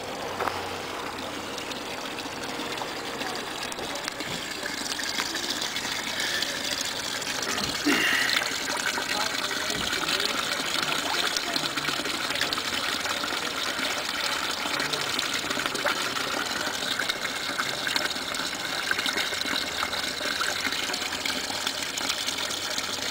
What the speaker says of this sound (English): artesian well.